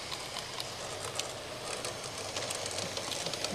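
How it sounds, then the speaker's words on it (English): A USAT GP38 model train rolls through the middle bay of a layout, giving a steady, fairly loud rumbling hiss with faint rail clatter and no talking. "Here's the train coming through the middle bay."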